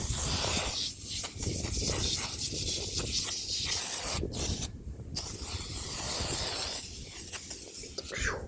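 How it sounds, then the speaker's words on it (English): A spray bottle misting cleaning product onto the engine baffle and front timing cover of an 87 Trans Am during an LS swap, with repeated short hissing bursts separated by brief pauses. "Go ahead and spray down the baffle"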